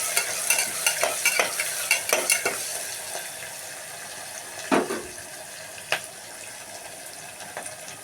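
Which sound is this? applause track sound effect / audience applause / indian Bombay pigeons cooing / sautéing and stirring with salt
sautéing and stirring with salt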